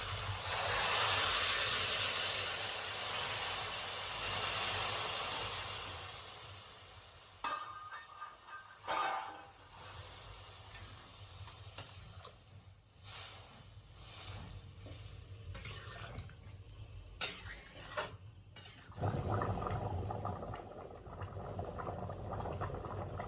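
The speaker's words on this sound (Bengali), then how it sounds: "এবার জল দিয়ে দেবো।" Water poured into a pan of potatoes sautéed in spices, a loud broad hiss for the first several seconds that tapers off into softer bubbling and crackling, with clattering stirring noises and a renewed burst later.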